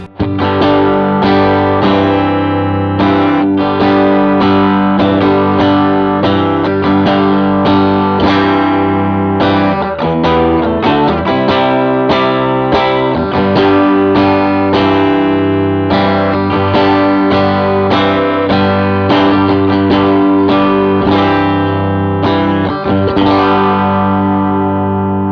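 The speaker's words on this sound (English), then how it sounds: "Maybe we try it with some higher gain drive. We'll just go right to the red side of the King of Tone." An electric guitar runs through a King of Tone overdrive pedal on its high-gain red side, giving a thick, distorted, sustained tone with continuous loud playing for about twenty-five seconds and no talk.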